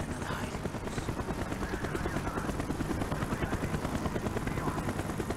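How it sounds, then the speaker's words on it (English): Helicopter in the video game Call of Duty Black Ops: a loud, continuous rotor chop pulsing evenly throughout, close and dominant, with faint background game noise. "The chopper is coming around again."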